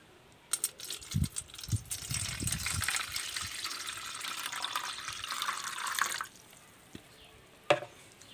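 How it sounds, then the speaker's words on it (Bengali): Pond snails in their shells washed in clean water, with running and splashing water and small clinking of shells for several seconds, then a pause and a final brief splash; close, no speech. "এবার আমি গুগলির মধ্যে পরিষ্কার জল দিয়ে ভালো করে ধুয়ে নেব।"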